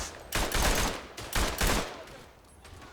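Machine gun bursts in the World War I shooter Verdun, several loud, close bursts of rapid fire separated by short pauses, with no talking.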